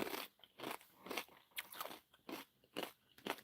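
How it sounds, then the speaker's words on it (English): Close, loud crunching and chewing of food by one person, with about seven distinct bites or chews in a steady rhythm and no talking. "Sorry that I'm chewing in y'all's ear."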